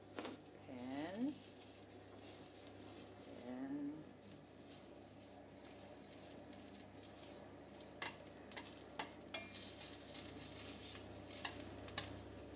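Cut ginger pieces sizzling in hot oil in a frying pan while braising fish, a faint steady crackle and hiss with a few stirring scrapes and utensil clicks near the end, with brief voices early on.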